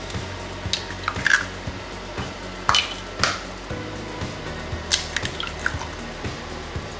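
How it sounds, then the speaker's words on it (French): Eggs cracked into a large bowl while milk warms for an apricot clafoutis: a few sharp shell cracks and soft wet drips, close and fairly quiet, with light clinks of the bowl and no talking. "je vais casser les œufs là dans un grand bol"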